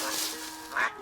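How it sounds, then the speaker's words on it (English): A cartoon duck gives a short quack over bright, busy background music in a children's animal-sounds learning game. "It's a duck."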